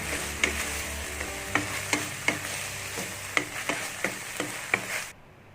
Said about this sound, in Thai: ผัดต่อยหน่อยก็เสร็จแล้วนะครับ